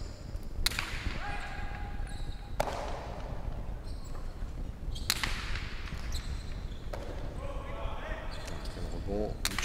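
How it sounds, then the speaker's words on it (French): A cesta punta ball strikes the walls and floor of a fronton court during a professional final in Saint-Jean-de-Luz, giving several sharp, loud cracks spaced a few seconds apart over a steady crowd murmur. "Un rebond, Lucho, on a entendu"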